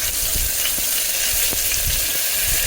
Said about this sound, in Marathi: आलं लसूणची पेस्ट एक चमचावर घेतलेली आहे ती पण आपण तेलामध्ये भाजून घेऊया अगदी गोल्डन ब्राऊन होईपर्यंत